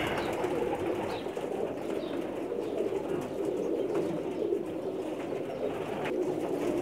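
A pair of Pakistani pigeons coos steadily and softly at close range, a continuous murmuring warble with faint wing rustles and no talk.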